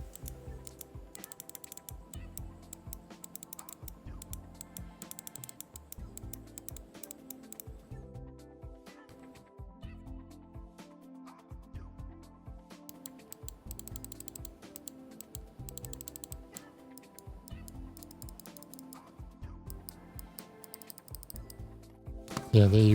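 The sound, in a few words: IPI Float 88 computer mouse clicking sound test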